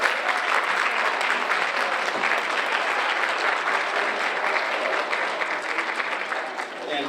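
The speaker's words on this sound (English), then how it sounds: "please give another round of applause for such an awesome play performance" Sustained applause from a school audience after a drama club play at an arts night, a dense, steady wash of clapping filling the room with no break, tapering slightly at the end.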